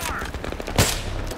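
Rapid gunfire crackles in the Battlefield 3 video game, a short close burst of shots with one sharp, loud report in the middle.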